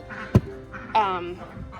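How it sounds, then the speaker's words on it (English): Ducks at an outdoor feeding spot give a couple of sharp, close quacks, one short burst followed by a longer nasal call, over light background noise. "Crazy ducks."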